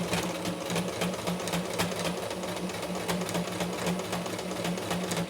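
A sewing machine runs steadily, stitching a backstitch on a cotton tea towel with an even, rapid mechanical whir close by and no talking.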